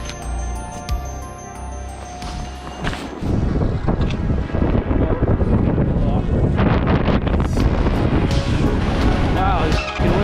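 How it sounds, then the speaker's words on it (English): Strong wind buffets the microphone on a ski mountain, a loud continuous roaring rush that swells after the first few seconds and stays heavy throughout, with a voice briefly heard early on. "Wow, it's fucking windy."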